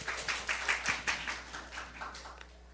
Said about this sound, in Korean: 그렇게 하실 하나님께 우리 박수 올려드립니다.